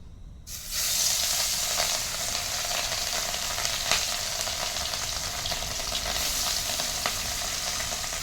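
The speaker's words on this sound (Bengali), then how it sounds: "তেলের মধ্যে আগে এই পিস মাছগুলো ভেজে নেব ভালো করে" Pieces of fish fry in hot oil in a wok, a loud continuous sizzle and crackle that starts abruptly and keeps bubbling with scattered pops and faint stirring, no talk.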